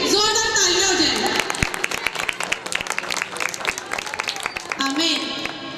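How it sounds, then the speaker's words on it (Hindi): Loud clapping rises from a Pentecostal church gathering celebrating Christmas, starting under a voice and a held musical tone, then breaking into sharp, irregular individual claps with raised voices mixed throughout. "उसके जिंदा नाम के लिए, उसकी शान के लिए जोरदार तालियां हो जाए"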